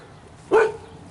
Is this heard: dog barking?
yes